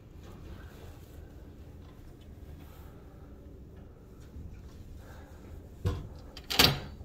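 A locked door rattles and clunks as someone tries it, two sharp knocks near the end after a stretch of quiet room noise.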